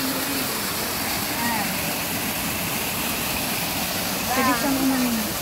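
A shallow stream near the Wu Kai Sha waterfalls rushes in a steady, broad wash close by, with faint bird-like chirps and a brief higher tone rising over it near the end.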